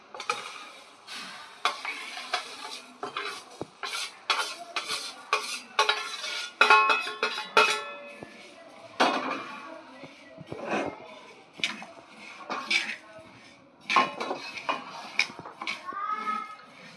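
Urad dal roasting on a tawa over a gas flame, stirred with a utensil: repeated scraping and clinking strokes in an irregular rhythm, close and moderately loud, with no speech.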